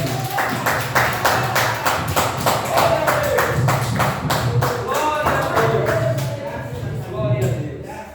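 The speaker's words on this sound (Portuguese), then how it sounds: "Com palmas para Jesus." A congregation at a church service claps for Jesus, a steady run of sharp, rhythmic handclaps close by with a few voices speaking over them, thinning out toward the end.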